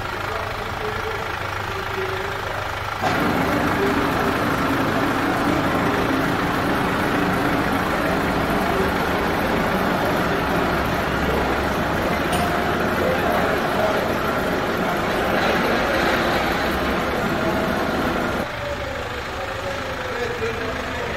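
A Chevrolet Captiva C140 idles after an oil cooler replacement, its engine giving a steady, even drone close by that runs without a break and grows slightly fuller in the middle stretch.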